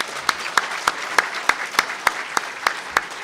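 Audience applause at a City Club of Chicago event, with distinct regular claps standing out at a steady pace over a softer wash of clapping that lasts a few seconds.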